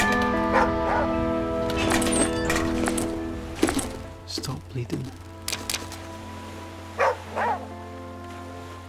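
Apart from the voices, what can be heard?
dog barking in video game The Flame in the Flood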